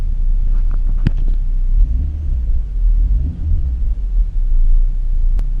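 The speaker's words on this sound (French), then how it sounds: "Là j'ai mis des petits coups d'accélérateur, alors elle est froide" A cold car engine idles with a deep, steady low rumble close to the microphone after light throttle blips, a few small clicks and knocks sounding over it and no talk.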